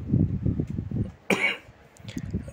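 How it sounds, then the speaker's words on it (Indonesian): A man coughs once, sharp and close, in a quiet room between stretches of low murmured speech. "saya agak batuk ini karena terlalu banyak makan gorengan ya"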